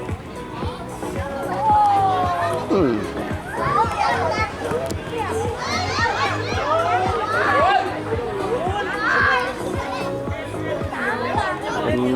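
Children playing on a football pitch before a friendly warm-up match at a stadium in Phayao, with constant lively shouting and chatter from many young voices, nearby and continuous.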